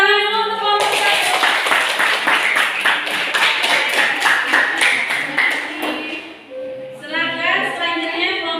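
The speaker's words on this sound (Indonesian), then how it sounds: "Tepuk tangan dulu untuk kelompok satu." A classroom group claps for the first group after its presentation, a sustained burst of hand clapping lasting several seconds that then fades, with voices talking at the start and end.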